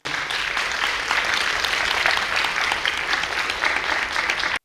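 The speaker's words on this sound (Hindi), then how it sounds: "तो हम रवीना डांस एकेडमी को तालियों से नवाजें।" An audience at an arangetram dance recital claps for a dance academy, producing a full, continuous round of applause that holds steady and then cuts off abruptly at the end.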